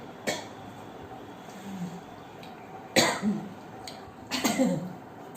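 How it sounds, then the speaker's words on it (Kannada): A person coughs three times, each a sharp burst followed by a short rasping tail, spaced a couple of seconds apart against a quiet indoor background. "ಕೆಮ್ಮು ಬರ್ತದೆ"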